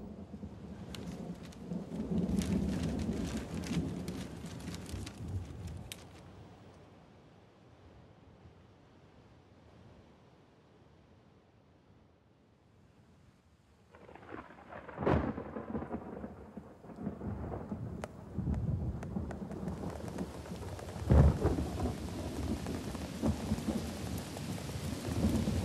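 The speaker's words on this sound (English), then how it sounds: "A storm is approaching." Thunderstorm with rain in locust country, rumbling thunder rolling in and out over steady rain, with loud crashing bursts later, no voices.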